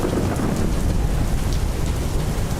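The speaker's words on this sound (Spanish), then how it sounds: "La fiesta apenas comenzaba cuando una fuerte tormenta azotó la Ciudad de México." A heavy thunderstorm pours down on Mexico City during a street celebration. A dense, steady roar of driving rain mixes with a low rumble of thunder, loud and close and continuous from start to finish, with no voices heard.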